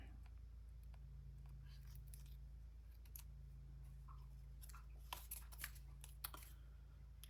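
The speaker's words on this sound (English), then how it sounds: "Now let's snip out this business here." Scissors snip paper while trimming a page for a Graphic 45 Seas the Day 9x9 mini scrapbook album: a few faint, crisp cuts near the end over a quiet, steady room hum.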